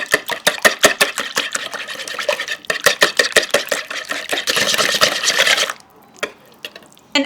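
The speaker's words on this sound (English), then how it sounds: "Then you're just going to give this a good whisk." Rapid rhythmic clinking of a whisk beating ingredients in a bowl for keto chocolate donut batter, with sweetener just added; steady close strokes with brief pauses, ending in quieter scattered taps.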